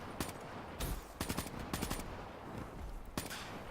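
Video game gunfire in a shooter, several bursts of rapid shots spaced across the stretch, sharp and fairly close, with no talking over them.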